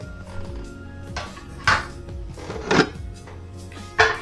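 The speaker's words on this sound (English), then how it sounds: "Last but not least, on the decluttering are pots and pans." Pots and pans clank during a kitchen declutter, with three distinct metallic knocks and scrapes spaced a second or so apart over a quiet room background.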